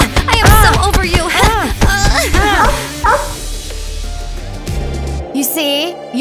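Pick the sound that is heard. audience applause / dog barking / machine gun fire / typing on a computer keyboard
dog barking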